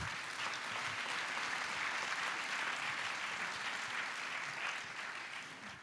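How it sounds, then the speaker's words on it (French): Audience applause at the Cannes opening ceremony, a large hall of continuous, dense clapping held steady throughout and heard from a distance, tapering slightly at the close. "Oui, on peut l'applaudir."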